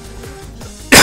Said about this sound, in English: oh, sorry for coughing there.